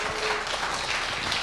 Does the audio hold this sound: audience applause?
yes